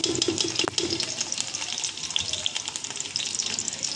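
Chopped onion dropped into hot cooking oil for chicken biryani gives a steady, fairly loud hissing sizzle that carries on unbroken, with a few light clicks near the start.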